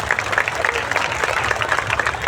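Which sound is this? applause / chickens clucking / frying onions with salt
applause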